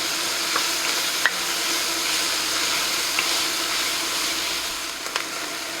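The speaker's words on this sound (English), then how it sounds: "So the onions are now beginning to brown." Onions and ground beef fry in a pan for a hamburger stew, giving a steady, close sizzle and hiss with a few faint stirring scrapes and clicks and no talking.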